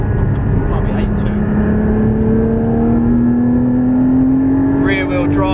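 A Porsche Cayman GT4 718 engine revs steadily upward in a rising, sustained drone that stays loud throughout, with a voice speaking over it.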